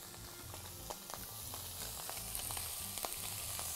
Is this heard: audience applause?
no